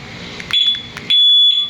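Honda ADV 160 motorcycle alarm sounding, high piercing electronic tones in two bursts, the second long and loud, close by over faint background noise, no speech.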